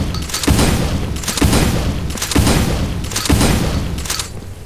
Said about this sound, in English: So next up is the super shotgun, or double barrel, whatever you want to call it.